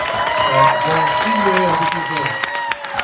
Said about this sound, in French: Peut-être vous voulez vous lever à votre place et applaudir bien fort